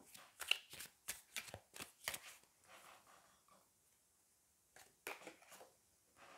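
Tarot cards are shuffled close up in a rapid run of crisp riffling flicks, then go quiet before a couple of softer card sounds as one is drawn.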